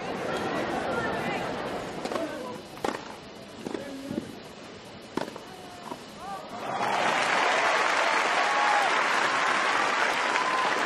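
Wimbledon tennis crowd: scattered shouts and murmurs at first, then sustained loud applause swells after the midpoint and holds steady to the end, with a commentator's voice over the earlier part.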